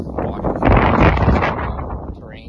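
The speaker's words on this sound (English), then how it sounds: "Yeah, very windy." Strong wind roars and buffets the microphone on a snowy, unmarked spring hiking trail in cold weather, a loud continuous gusting rush that swells in the middle and eases slightly toward the end.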